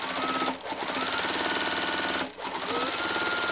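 Sewing machine stitching free-motion quilting line work, a loud, fast, even needle rattle running steadily with two brief dips as the stitching pauses, close and alone.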